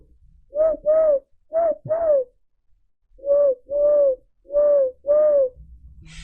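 A voice imitates an owl hoot, giving about eight loud, close hooting coos in pairs with short pauses between them.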